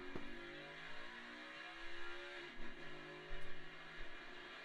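Distant NASCAR Xfinity Series race car engines at Portland rise and fall in pitch as they rev and pass, faint and layered, with a steady background hiss.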